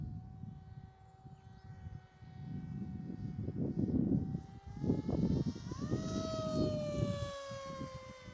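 An RC Mini Drak plane with a 6S powertrain makes a flyby, its electric motor whining louder as it approaches, then the pitch drops as it passes and fades.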